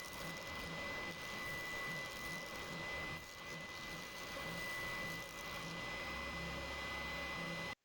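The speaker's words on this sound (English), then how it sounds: "I use a spindle sander to sand down to the lines of my sketch" Spindle sander grinding a wooden two-piece fishing lure blank down to sketched lines, a steady loud motor whine with broadband abrasive hiss that runs continuously, alone without talk.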